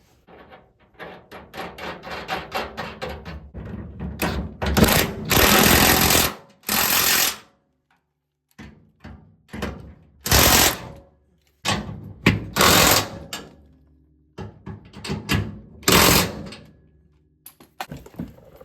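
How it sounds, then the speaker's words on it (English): An impact wrench rattles nuts down onto a trailer hitch being fitted to a Ford Ranger pickup, several loud hammering bursts of a second or two each separated by silent gaps, close to the work. "I just ran them down with the torque wrench, or the impact wrench, torque them down a little bit"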